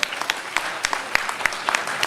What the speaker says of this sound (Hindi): एक बार इनके लिए आप लोग तालियां बजा ले